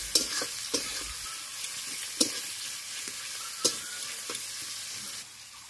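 Onion, chili and garlic sizzle in hot oil with whole cumin seeds, a steady frying hiss punctuated by sharp scraping stirs of a spoon in the pan.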